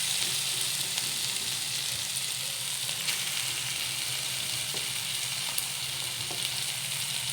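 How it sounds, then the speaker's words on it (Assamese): Steady sizzling of boiled potatoes frying in a pan with tomato, ginger and garlic for paneer sabzi, a continuous close hiss with occasional faint stirring clicks and no talk. "এইখিনিও মই এতিয়া ভাজি ল'ম অলপ দেৰি"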